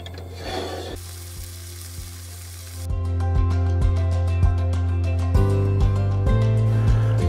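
Hamburger patties fry in a pan with a steady close sizzle. Low rhythmic thumps and a shifting background hum sit under the frying, and no one talks.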